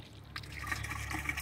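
Water trickling and splashing from an outdoor panda fountain topper, a soft steady flow with small drips and bubbling, close by and alone.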